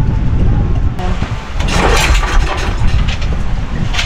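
A generator runs at night at a work site, a steady engine rumble that stays loud and continuous throughout, with a brief dip partway through.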